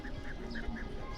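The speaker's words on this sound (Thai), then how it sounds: "อันนี้น่าจะแม่นเป็ดเขาเจ้าได้เลี้ยงเป็ดเลี้ยงหยังแบบนี้เด้ปอ" Farm ducks at a Bru village in Laos quack faintly in the morning, a few soft evenly spaced calls over a low background hum.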